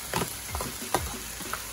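Jamaican Scotch bonnet peppers fry in a pot for pepper shrimp, a constant close sizzle with several quick spoon strokes scraping through.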